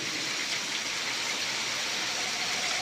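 Steady rain falls in a dense, even hiss with no break, a continuous wash of drops with no voices over it.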